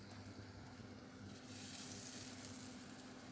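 Butter melting with a little olive oil in a pan, a soft, quiet sizzle that swells slightly partway through, steady and close with low background hum, no talking.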